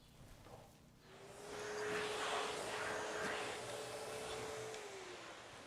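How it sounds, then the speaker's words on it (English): Vacuum cleaner with a HEPA filter running indoors, a motor whine that swells up after about a second and holds a steady droning hum, fairly faint. "And this baby is not just any old vacuum. It has a HEPA filter"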